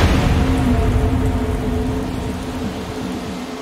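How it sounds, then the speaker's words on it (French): A storm brings steady, heavy freezing rain with a low rumble of thunder underneath, a dense continuous wash in a French sea-rescue radio drama, with no voices over it. "Il fait tellement froid que la pluie tombe maintenant en verglas."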